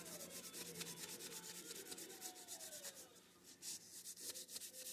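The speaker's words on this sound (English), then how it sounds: "Get it on the biggest thing of graphite powder we can and just start rubbing this side of the sword." Graphite powder being rubbed onto a sword blade with a paper towel: a close, steady series of rapid scratchy rubbing strokes with a dry, papery swish, going on without pause.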